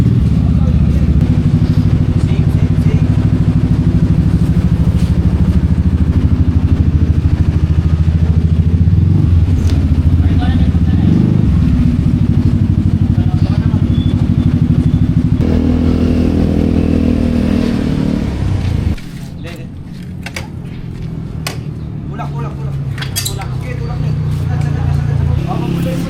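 Motorcycle engines idle and rev close by, a steady low rumble with clattering, while people talk over the noise.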